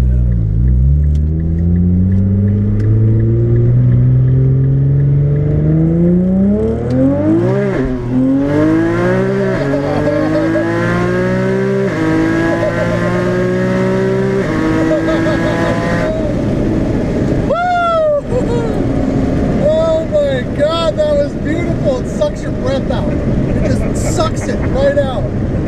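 A 1300 awhp Nissan GT-R accelerates hard on a highway. Its engine roars loud and close, rising steadily through several gears, with brief dips at each shift before it climbs again.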